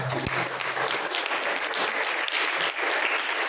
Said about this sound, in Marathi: त्याला आपण टाळ्या यासाठी वाजवायला